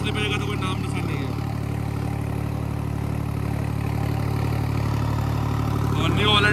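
Eicher tractor engine running at a steady, loud, close drone while planting potatoes in a field, with people talking over the constant hum.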